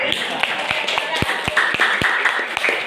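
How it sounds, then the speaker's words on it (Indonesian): Audience members clap along at a business seminar, regular spaced hand claps in a steady rhythm, with a speaker's voice talking over them throughout. "Tepuk tangan lagi dong."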